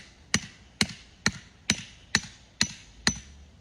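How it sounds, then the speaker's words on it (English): Seven evenly spaced, sharp hammer blows drive nails into a support beam for an electric fence, each strike crisp and close with a brief ring, and nothing else heard between them. "I'm going to hammer it into that one too"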